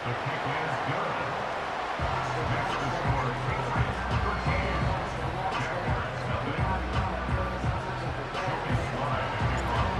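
Video game stadium crowd at Wembley in Madden 25, during a London game between the New England Patriots and Jacksonville Jaguars: a steady, dense roar of crowd noise with scattered thumps, running throughout under a commentator's voice.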